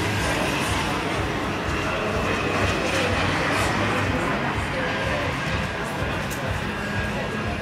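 JetCat turbine-powered model jet flying at full throttle: a loud, continuous broadband roar and whine that holds steady throughout, with a voice talking underneath.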